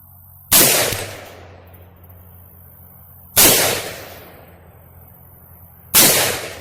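Three loud, sharp gunshots from a Palmetto State Armory Marauder rifle chambered in 300 Blackout, each followed by a ringing decay, spaced about three seconds apart with quiet between them.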